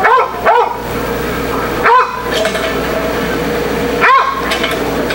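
A dog barks in sharp, loud bursts close by, three barks spaced a couple of seconds apart over a tense outdoor scene with steady background noise.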